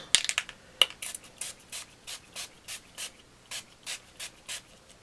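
Rattling, rhythmic shaking of a metallic spray paint can, a rapid flurry of clicks followed by a steady string of evenly spaced rattles, fairly quiet and without voices.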